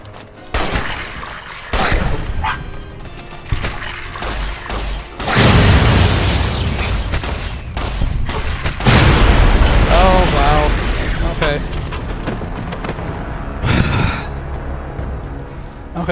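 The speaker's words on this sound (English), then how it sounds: "Okay, so those explosions hurt." Loud booms and bursts of gunfire from Fallout: New Vegas crash in repeatedly, with crackling debris between blasts.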